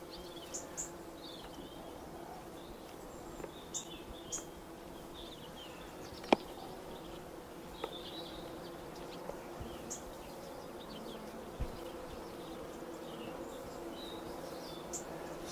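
A full beehive of honey bees gives off a soft, steady buzzing hum that runs throughout, with scattered faint clicks and a few distant bird chirps over it, recorded outdoors in an orchard.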